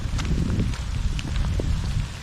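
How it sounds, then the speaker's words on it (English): Steady rain falls during the Grindstone 100-mile trail race, a close, continuous broadband hiss of drops on surfaces with a few louder spatters, running unbroken and fairly loud throughout. "Rain sounds like it's dying down a little bit."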